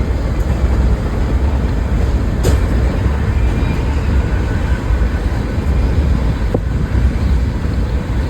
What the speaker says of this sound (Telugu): ఈరోజు మనం కర్నూలు నుంచి తిరుపతికి అయితే ట్రైన్ జర్నీ చేయబోతున్నాం